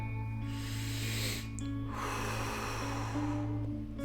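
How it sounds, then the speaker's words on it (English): Slow breathing during a breath-counting meditation exercise, with long, soft airy exhalations that swell and fade near the microphone, alone over a steady low hum. "counting your exhalations"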